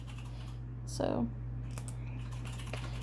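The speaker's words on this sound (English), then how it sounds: "If you hear any clacking, that would be my husband, typing away on the keyboard." Faint, sparse clacks of someone typing on a computer keyboard in a quiet room with a low steady hum, while someone briefly speaks over them.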